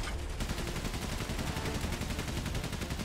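Machine gun fire from the First World War video game Valiant Hearts, a dense, rapid stream of rattling shots that fills the whole short stretch at moderate loudness, with no voices.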